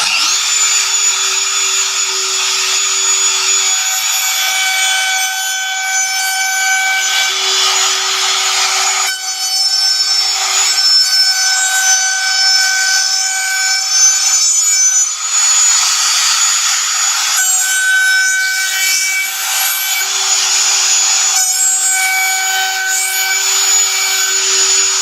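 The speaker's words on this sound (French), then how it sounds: "j'ai réglé mon affleureuse pour que elle prenne un minimum sur" A flush trim router cuts along a laminate edge, a loud steady high-pitched whine with a grinding, rasping edge that wavers slightly as the tool moves along the workpiece.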